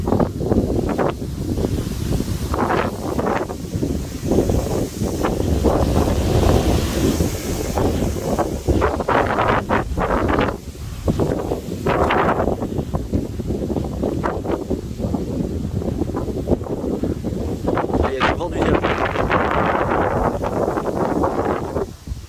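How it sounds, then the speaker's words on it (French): Powerful foehn wind gusts roar during a storm, a loud continuous buffeting rush that hits the microphone hard, with surging peaks and rustling debris, no talk. "Nouvelle rafale, puissante rafale."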